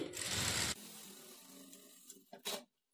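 A sewing machine stitches darts on a work blouse in one loud, close burst at the start, followed by quieter handling sounds and a couple of short clicks before falling silent.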